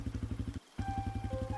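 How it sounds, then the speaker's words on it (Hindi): A motorcycle engine thumps in an even, rapid putter close by, breaks off briefly, then resumes with a rising steady tone. "राघव ने बिना पीछे देखे एक्सीलेटर घुमाया और बाइक आगे बढ़ा दी।"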